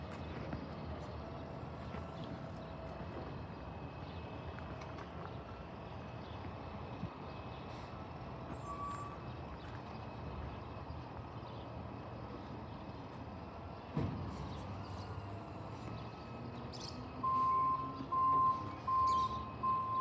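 A garbage truck's reversing alarm beeps faintly and steadily near the end, sounding distant beneath a continuous low engine rumble outdoors.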